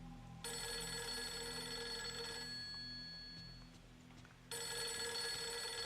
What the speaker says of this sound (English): The phone did wake up Rory, did you see?